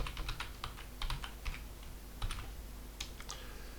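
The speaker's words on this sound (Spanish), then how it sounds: "Introducimos la contraseña." A password goes in on a computer keyboard: quick, quiet clusters of keystrokes with short pauses between bursts, close by and with no talk.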